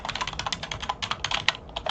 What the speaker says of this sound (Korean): 키보드로 콤마 입력합니다